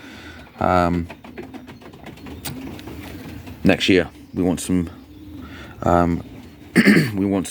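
Racing pigeons in a loft give several soft, rhythmic coos in separate bursts, close and fairly loud, interleaved with someone talking over them.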